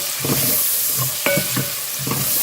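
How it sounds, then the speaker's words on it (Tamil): Chopped onion with spices fries in oil while a spoon scrapes and stirs in several rhythmic strokes against the pan, close and loud over a constant hiss, with no talking. "ஒரு பெரிய வெங்காயம் கட் பண்ணி போட்டுருக்கேன்"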